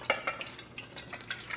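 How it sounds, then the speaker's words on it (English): Water being poured into a rice cooker pot, giving short splashing and dripping sounds with faint trickles, close and fairly quiet. "Add 2 cups of water"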